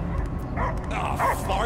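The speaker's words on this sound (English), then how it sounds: "I hear only barking." A dog barks and yips in the Guardians of the Galaxy video game, moderately loud beneath game voices and background music.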